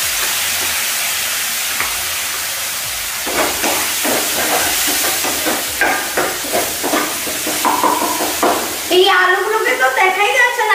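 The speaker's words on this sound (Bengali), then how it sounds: "তা আমি এবার মশলার মধ্যে একটু জল দিয়ে মশলাগুলো ছেড়ে দিচ্ছি।" Water poured into spices frying in a pan sets off a loud, steady steaming hiss with rhythmic stirring scrapes, and a voice speaks over the sizzle near the end.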